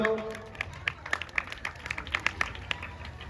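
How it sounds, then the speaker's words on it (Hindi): An audience at a stage event claps to welcome a performer, scattered and uneven claps over a background murmur of talk. "जोरदार करताली दे स्वागत करतो"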